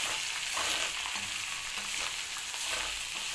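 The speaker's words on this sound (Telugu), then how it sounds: "ఫ్రై చేసుకోవాలి దాన్ని" Food fries in a pan with roasted gram powder added, a soft steady sizzle and hiss with faint low stirring scrapes, fairly quiet and without talk.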